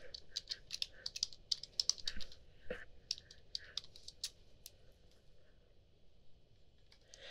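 Rapid keystrokes on a computer keyboard as a password is entered, a quiet run of irregular clicks that thins out and slows toward the end, heard alone without talk.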